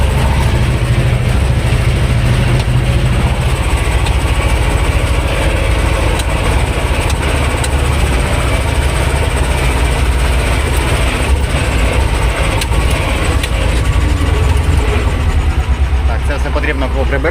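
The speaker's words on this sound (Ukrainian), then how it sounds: "Трактор взагалі спокійно тягне." A T-25 tractor engine pulling a disc harrow across a field drones steadily at a constant pace throughout, loud and close, with no pauses.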